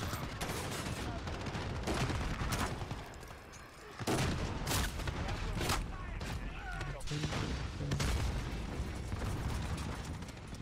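Shotgun fire in Call of Duty gameplay, a dense series of sharp blasts and mechanical clacks throughout, with voices talking over the action.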